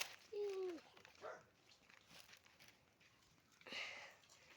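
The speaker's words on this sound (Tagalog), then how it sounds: "may aso dito" A dog on a mountain trail gives a few faint, distant barks and whines, scattered over quiet outdoor background noise.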